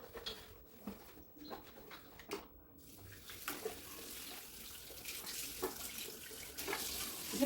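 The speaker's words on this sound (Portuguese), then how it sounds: "Preciso terminar de jogar água na minha planta daqui." Water poured onto a potted plant at home during dry weather, a soft continuous splashing and trickle that grows steadier and a little louder, with faint birds in the background and no talk.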